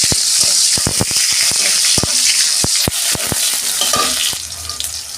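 Tomatoes hit hot oil in a frying pan for a ridge gourd and potato dish, setting off a loud, steady hiss of sizzling broken by sharp crackles and spatters throughout.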